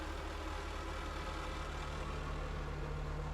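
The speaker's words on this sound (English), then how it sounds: "There's nothing better than the sound of a diesel tractor on a cold morning." A Kubota diesel tractor engine idles steadily on a cold morning, a continuous close rumble that holds even throughout with no voices.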